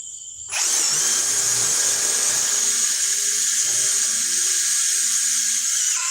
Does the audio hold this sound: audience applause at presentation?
no